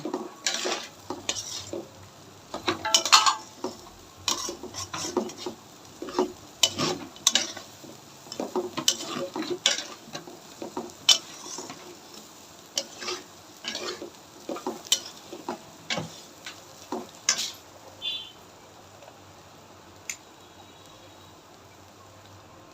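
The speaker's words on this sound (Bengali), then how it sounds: "মশলাটা দিয়ে ভালো করে কষাই নিবে" A spoon scrapes and clanks against a pot as a spice mix is stirred and sautéed for khichuri on a rainy day. The knocks and scrapes come at irregular intervals and are close and distinct, under a faint sizzle, with no voices.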